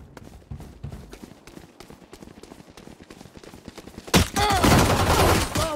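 Gunfire in Valorant: a series of sharp, evenly spaced shots at moderate distance, then a sudden loud close burst of rapid fire mixed with ringing and whistling effects.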